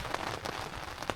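Rain falling steadily outdoors along a bush trail, a dense even patter of drops on surfaces with a few sharper nearby splashes, close and continuous with no voices.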